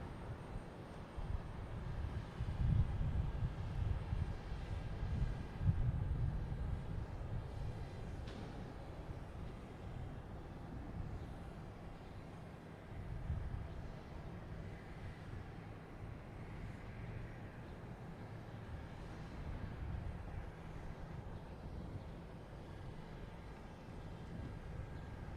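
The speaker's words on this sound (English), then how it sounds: "We have Delta taking off now, heading to Atlanta in A321, flight 332." A Delta Airbus A321 taking off from Boston Logan Airport, a broad low rumbling roar heard from a distance, strongest early and then holding steady as a dull drone.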